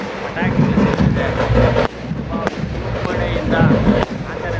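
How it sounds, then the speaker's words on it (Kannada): Firecrackers burst during a Kempegowda festival procession with chariots, a dense crackling and popping barrage with sharp thumps, heard over a noisy crowd murmur. "ಪಟಾಕಿ ಸಿಡಿಸಿದೆ"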